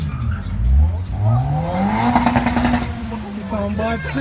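A car engine revs hard on two-step launch control, a loud rising roar with crackling pops, close by, while people talk over it.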